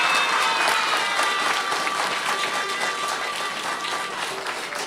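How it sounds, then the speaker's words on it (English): Warm applause from a group, steady clapping that gradually softens toward the end, with faint voices mixed in. "Let's give Ms. Sheila Bear another round of applause."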